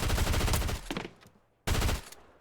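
Dual micro SMGs in Fortnite fire two loud, rapid bursts of automatic gunfire, the first running almost a second, then a short quiet gap before a second burst, close and with no talk.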